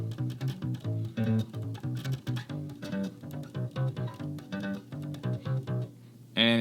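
Bass guitar line from the bridge and verse of a song, a steady repeating pattern of plucked low notes played alone and moderately loud, with a brief brighter burst at the very end.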